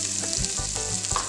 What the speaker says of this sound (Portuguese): eu vou estar adicionando na panela 5 dentinhos de alho picado